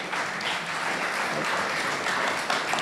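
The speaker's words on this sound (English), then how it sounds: "Let's give him another round of applause," A theater audience at a playhouse gives another round of applause, a thick continuous wash of clapping held at an even, fairly loud level from start to finish.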